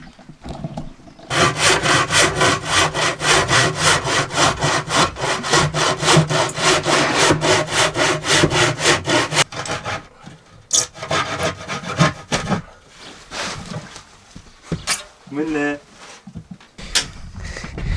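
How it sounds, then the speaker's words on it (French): A hand saw rasps through wood in steady back-and-forth strokes for several seconds, loud and close, then stops, followed by scattered handling noises. "Et ce qui est important quand tu utilises une scie,"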